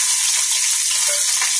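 Loud, steady sizzling of curry leaves, green chillies and spices tempering in hot oil, close up and continuous, with no talking.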